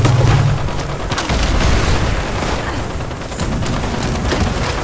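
Nuke explosions in Fallout 76 during a boss fight, a loud, continuous rumbling blast with deep booming and crackling bursts and no speech.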